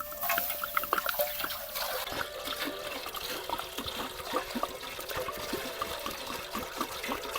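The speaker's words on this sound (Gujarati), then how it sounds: "હવે આપણે નાખશું પાણી." Water poured into a pan of village-style egg curry, a steady splashing pour that runs for several seconds, close and alone with no voices.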